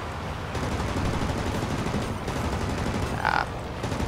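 Warplane machine gun strafe in World of Warplanes, a dense continuous rattle of rapid fire over loud engine roar, with a brief tonal chirp near the end.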